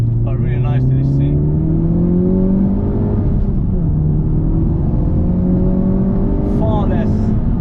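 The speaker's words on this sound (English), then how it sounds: "loving the exhaust note and everything" A Honda Civic Type-R FK8 driving along, its engine and exhaust droning steadily from inside the cabin with shifting pitch, while people talk over it at the start and end.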